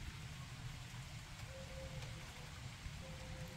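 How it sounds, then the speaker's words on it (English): Rain falls outdoors as a faint, continuous patter. The even, soft hiss of drops on surfaces carries on throughout, with a dull low background rumble and no voices. "It's so nice to stand in the rain."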